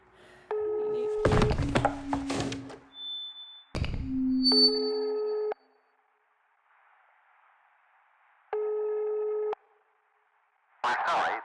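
A telephone intercept tone for a number not in service plays as three rising tone steps, sounding twice in clean, even bursts. A recorded voice and other sounds come between the bursts.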